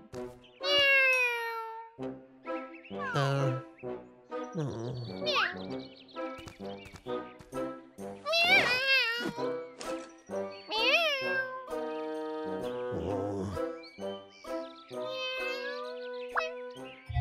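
A voice imitates a cartoon cat, giving several high, sliding meows in the Boonie Bears animated series. Other characters' voices are heard between the calls, over faint jingling.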